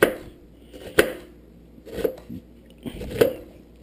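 A knife slicing through an onion on a cutting board, four sharp, close taps at roughly one-second intervals with soft crunching between them.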